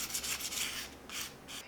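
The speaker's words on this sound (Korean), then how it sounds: "지금은 600방으로 사포를 한번 해주도록 하겠습니다" A lacquered craft piece with crushed mother-of-pearl being sanded by hand with fine 600-grit sandpaper, producing soft, quiet rhythmic rubbing strokes in short bursts, heard close and alone.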